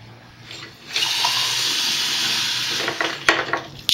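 Water runs from a kitchen tap to measure two cups for a sugar syrup for candied pumpkin. A quiet start gives way to a steady, close hiss of flowing water that ends with a few clunks.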